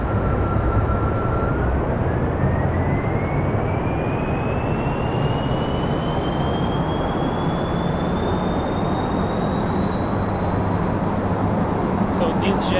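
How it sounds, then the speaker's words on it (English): Jet engines fire steadily on a lander during a crewed Mun landing in a space flight game, a loud continuous broadband roar lasting throughout, with a tone that slowly rises in pitch. "So these jet engines are awesome for this part."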